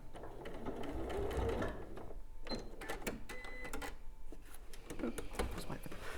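A sewing machine stitches the channel of a drawstring tote bag with a steady, close mechanical whir and clatter throughout, while people talk over it.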